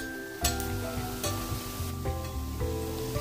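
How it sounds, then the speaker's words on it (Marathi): Bhajani chakli deep-fry in hot oil over a medium flame, with a steady close sizzle and a few sharper splashes as oil is spooned over, no talk. "मध्यम गॅसवर ठेवायचं आणि असं थोडं तेल उडवायचं तळताना"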